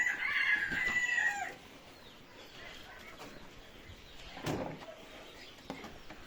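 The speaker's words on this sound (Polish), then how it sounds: "Normalnie kogut." A rooster crows once, fairly loud and near, then quieter rustling and a faint flutter follow in an outdoor setting.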